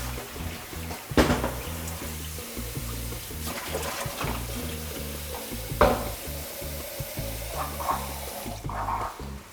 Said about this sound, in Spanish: Le agrego un poquitito de agua.